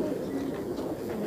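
Allahabadi pigeons, including white, Kaldume, Kalpare and Ghare Khawre types, cooing softly in a continuous low murmur nearby, with faint background voices.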